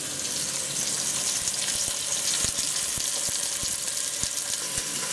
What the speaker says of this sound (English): then we'll put the short ribs in, and we'll get them going. We'll allow those to cook.